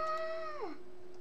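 A house cat gives a single drawn-out meow that holds steady and then slides downward in pitch at the end, heard alone and close with nothing else around it.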